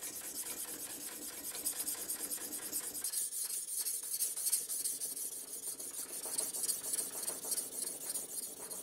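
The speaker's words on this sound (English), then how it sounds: "Jesus will polish the blade at alternating 90-degree angles" A seax blade is hand polished with a sanding bar in steady back-and-forth strokes, giving a continuous dry rasping rub with no talk, which drops in tone partway through as the angle changes.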